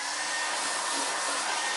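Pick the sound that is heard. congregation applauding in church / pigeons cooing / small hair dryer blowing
small hair dryer blowing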